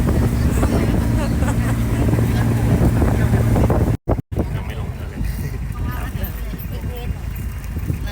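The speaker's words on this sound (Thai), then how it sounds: "นี่ เราถึงเรือเราแล้ว" Passenger boat engine droning steadily on the crossing to Ko Kut, heavy wind buffeting the microphone throughout, loud and close, with a brief dropout midway.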